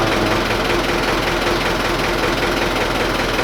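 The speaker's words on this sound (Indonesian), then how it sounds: "ciri-ciri mesin udah ngobos kayak gini bosku" A Mitsubishi Colt Diesel PS100 engine with low compression runs rough and uneven, giving a loud, continuous, knocking diesel clatter close by in a workshop, with no talk.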